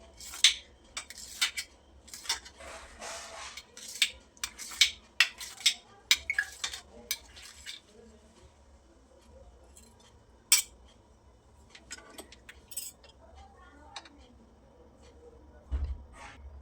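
A knife or spatula clinks and scrapes against a metal tray while cutting soft steamed live dhokla into pieces, a series of short sharp taps in the first half, then sparser clicks.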